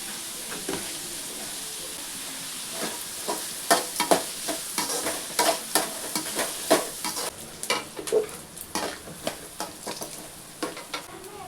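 A spoon scrapes and stirs ingredients with rock salt in a sizzling pan for Sankara fish curry, rhythmic clacks over a steady frying hiss, close up with no talk.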